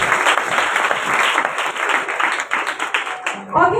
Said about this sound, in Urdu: میں چاہتی ہوں خداوند یسوع کے لیے زوردار تالیاں۔